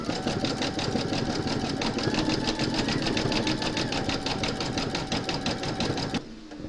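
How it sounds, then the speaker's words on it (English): An embroidery sewing machine stitches a zigzag applique line on a hooped project, a rapid, even mechanical chatter of needle strokes running close and steady before stopping abruptly near the end. "pop your hoop into your machine and stitch round number 5, and that's going to zigzag along this part of the stitch line"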